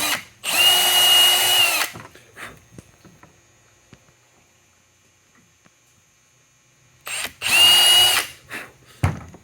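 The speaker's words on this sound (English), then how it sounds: "you're going to try and drill that hole right up against this leather lining" Power drill boring a hole in a wooden war club near its leather lining: two loud, close whirring bursts of about one and a half seconds each, separated by a long quiet gap with small clicks and handling sounds.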